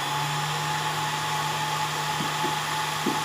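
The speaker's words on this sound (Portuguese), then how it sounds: "Bom, vamos furar a peça então." A 3 mm drill bit boring a hole in a metal part on a lathe, a steady high machine whir with a constant motor hum, and a few brief grinding bursts near the end as the bit cuts.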